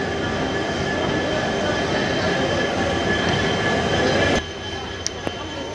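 A train rolls steadily through New Haflong railway station, a continuous loud rumble of wheels and carriages that drops off abruptly near the end, followed by a couple of faint clicks.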